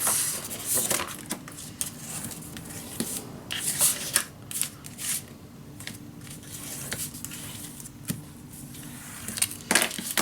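Sheets of paper are folded and creased for a large pocket in a handmade scrapbook mini album, giving close, irregular rustles, soft slaps and scrapes over roughly ten seconds, with no speech.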